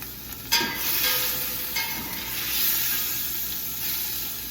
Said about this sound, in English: I'm not cooking it, I'm just browning it.